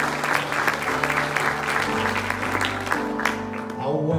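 A church congregation claps in praise during a service, a loud steady wash of hand claps with sustained organ or keyboard tones underneath throughout.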